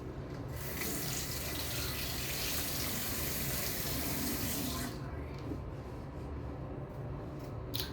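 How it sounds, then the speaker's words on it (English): A makeup sponge washed under a running tap, a continuous bright splashing water stream that drops off sharply partway through, leaving quieter drips and faint handling sounds. "I need to wash my sponge"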